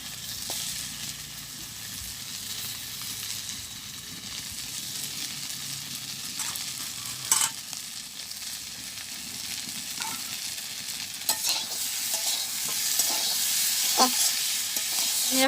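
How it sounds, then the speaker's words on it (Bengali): Lata snakehead fish frying in a pan in a village kitchen, a continuous moderate sizzle with scattered clinks and spatula knocks, the hiss swelling louder toward the end. "আস্তে আস্তে ল্যাঠা মাছ দিয়ে ভাজি করবো।"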